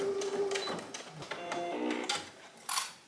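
Short, slow bursts of a sewing machine stitching a seam through an elastic panel of a dress at a longer stitch length, with light clicks and handling sounds between runs.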